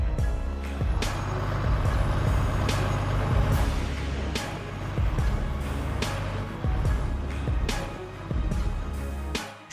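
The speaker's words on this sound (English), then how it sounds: "this Volvo 31320 is about to prove its worth. Backing up to rescue a stuck truck" A Volvo 31320 timber truck backs up over rugged mountain terrain, its low diesel engine rumbling steadily beneath a repeating series of reversing beeps, with occasional hiss bursts from air brakes, loud and close throughout.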